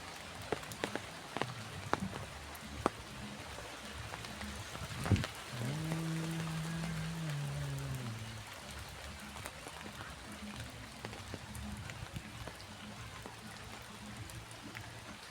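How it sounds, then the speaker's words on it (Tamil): Raindrops patter steadily around a home, with scattered louder drips over a soft continuous wash and a brief tonal hum partway through. "மழை துளி மழை துளி"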